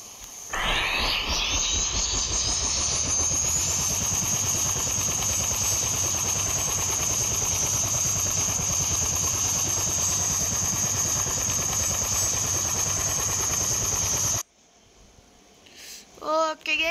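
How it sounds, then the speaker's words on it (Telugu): A helicopter engine in the Roblox video game spools up with a rising whine, then settles into a loud, steady roar and hiss for about fourteen seconds before cutting off abruptly, followed by a few brief game sounds. "హెలికాప్టర్"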